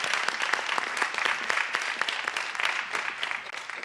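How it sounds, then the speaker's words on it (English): An audience applauds panelists at an evening community event, a dense, sustained burst of many hands clapping that fills the room evenly. "Please give our panelists a round of applause."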